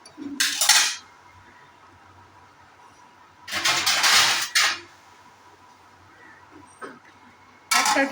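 A lid clatters onto a pot of potol (pointed gourd) curry with mator dal cooking on a medium gas flame. Three short, sharp metallic clanks are separated by quiet stretches.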